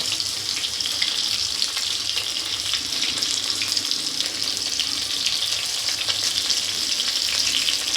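Fish fries in a pan with an added paste of onion, chilli and cumin for a pointed gourd fish curry, giving a dense, steady, close sizzle and hiss throughout, with no voices.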